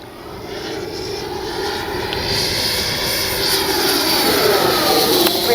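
An FMS Avanti S 90mm RC jet makes a low pass with gear up, its ducted-fan whine rising in loudness and sweeping in pitch as it approaches and passes close by.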